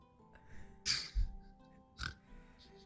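Pig oinks and snorts from the video game Creativerse, two short grunting bursts a second apart, moderately loud over a faint game background.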